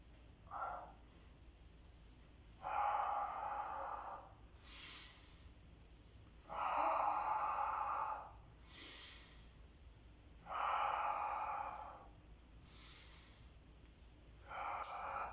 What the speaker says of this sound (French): Inspire, j'expire.